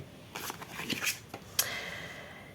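Paper envelope torn and opened close by during a magic advent calendar reveal, with crisp rustling and tearing bursts in short irregular bursts.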